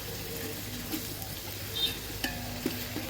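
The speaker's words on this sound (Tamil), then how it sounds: "வெங்காயம் நல்லா வதங்கட்டும்" Onions sauté in a pan with a soft, continuous sizzle, punctuated by a few clinks and stirring taps as the cooking carries on.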